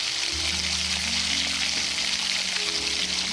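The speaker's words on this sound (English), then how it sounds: "I'm going to saute these onions" Onions sautéing in butter in a pan, a steady close sizzle and crackle running throughout with a low hum beneath, no talking.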